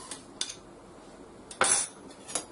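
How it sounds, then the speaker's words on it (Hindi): Seeds dropped into a hot pan for dry roasting, heard as a few faint metallic clinks and a louder rattling scatter midway, close and otherwise quiet. "पैन गरम हो गया है, अब इसमें हम ये बीज डालेंगे"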